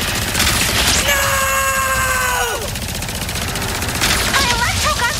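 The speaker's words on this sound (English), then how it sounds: "My electro guns aren't working all that fast." Electro guns firing in Ratchet & Clank: Rift Apart amid combat, rapid crackling bursts with a zapping tonal sweep in the middle and more scattered shots near the end, loud and continuous.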